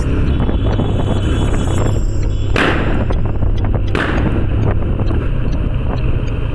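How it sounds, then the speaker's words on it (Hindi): Two sharp, loud exhaust pops burst over a rumbling engine and wind noise, a TVS Apache RTR 160 motorcycle backfiring while riding. "भाई मैं सोच नहीं रहा था कि इतने अच्छे बैक फायर मारेगी ये।"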